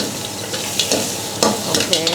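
Seafood hor mok sizzles in a pan while being stirred, with steady close frying crackle and scraping stirs.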